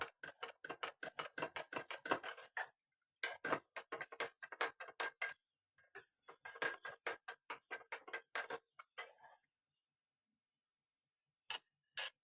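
A spoon stirs a detox drink sweetened with honey or black salt in a glass, making quick rhythmic clinks that run for about nine seconds, pause, then return in a brief final burst. The sound is close and clear, with no talking.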